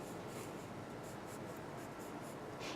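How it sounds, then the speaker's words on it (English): A pencil dots texture onto paper while a stone surface is rendered, with steady rapid tapping and scratching close to the microphone and nothing else heard. "Any sort of stone you can float texture over with your pencil."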